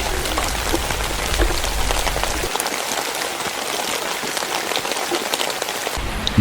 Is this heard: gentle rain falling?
yes